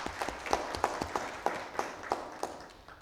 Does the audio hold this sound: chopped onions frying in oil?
no